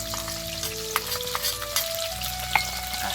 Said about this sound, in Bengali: আলুটা খুব ভালোভাবে ভেজে নিয়েছি, এবার দিয়ে দেবো কেটে রাখা টমেটো